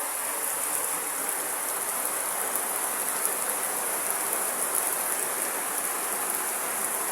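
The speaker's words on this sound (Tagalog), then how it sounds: "Ay, lakas ng ulan." Heavy rain pours down in a constant, dense hiss of drops with no pauses and no talking.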